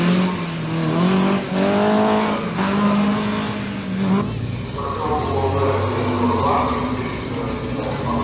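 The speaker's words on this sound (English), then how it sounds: "Timo Salonen in the new style Datsun Sylvia, backed up by TonyPond in a violet" Datsun Silvia rally car at the 1982 Rally of Portugal, its engine revving loudly and climbing through the gears with tire noise, close and continuous with no talk.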